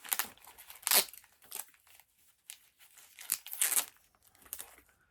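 Tape is torn and peeled off comic book packaging in several sharp, crinkly bursts separated by short pauses, close and fairly quiet.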